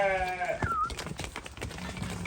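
A Hissar sheep bleats loudly and nearby in a wavering cry, followed by scattered shuffling and a short second call near the end.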